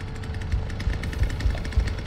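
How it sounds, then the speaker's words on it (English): A chainsaw in a Texas Chain Saw Massacre video game revs with a steady rough drone and periodic heavy thumps as it breaks objects, with no voices. "the chainsaw, it's not just about hunting the survivors, you're also breaking stuff that they can use to protect themselves"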